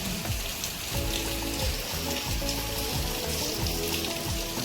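Steady heavy rain falls during a thunderstorm in Batangas, a loud continuous patter on surfaces with dense dripping texture and no speech.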